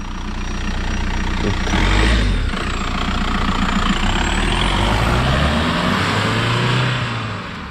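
A 1.9 TDI diesel engine in an MK4 Golf Variant with the EGR valve removed idles steadily with a deep rumble, close by, swelling briefly in loudness before settling back to a constant drone.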